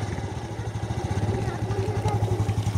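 A motorcycle engine idles close by with a steady low, pulsing throb while people talk over it.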